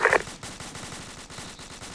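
Rapid machine gun fire rattles steadily in a war video game, bursts repeating in a dense rhythm with a louder crack at the start, no voices.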